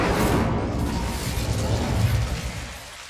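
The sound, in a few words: Incendio fire spell in Hogwarts Legacy video game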